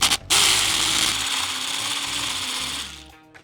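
A loud, continuous hammer drill grinding into concrete close by for about three seconds, then winding down and stopping.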